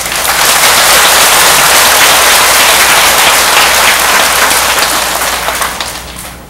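Buddhist worshippers in a temple dharma hall break into loud, close, dense applause that holds steady for several seconds and then begins to fade, with no talk heard.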